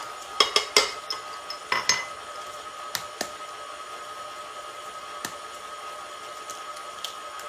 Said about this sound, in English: I like to crack them first and then put them in.